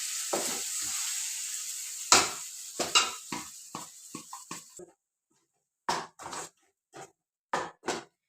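Masala paste with ginger-garlic sautéing in hot oil for a vendakka kuzhambu, a steady sizzle broken by repeated scraping stirs, then quiet pauses with short bursts of spoon-and-pan stirring.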